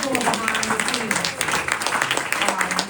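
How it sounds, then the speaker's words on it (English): A crowd applauds at a live event in Greenburgh, the clapping steady and dense throughout while a voice talks over it. "let's give a round of applause"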